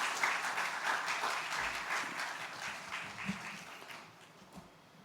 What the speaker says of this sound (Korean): 나오실 때 한 번 더 박수하겠습니다.